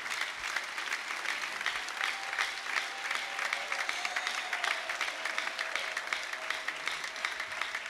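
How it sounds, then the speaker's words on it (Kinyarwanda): A church audience applauds warmly for a king, with dense, steady clapping holding at an even level for several seconds, fairly close and with no talk over it. "Mumukomere amashyi umwami wacu."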